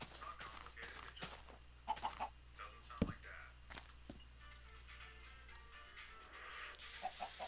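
Minecraft chickens on a survival farm, clucking in short scattered bursts amid soft game background noise and a few sharp clicks, fairly faint.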